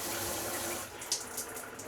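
An RV shower head sprays weak, low-pressure water with a continuous hiss, joined by a few brief splashes near the end.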